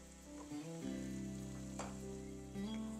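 Betel leaves fry in simmering homemade ghee, giving a soft, steady sizzle with low bubbling that runs evenly throughout.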